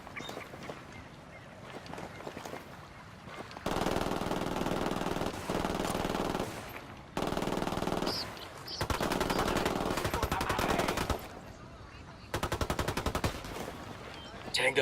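Video game shootout with bursts of rapid automatic gunfire in several loud sustained stretches and shorter volleys, interspersed with quieter gaps and some game chatter.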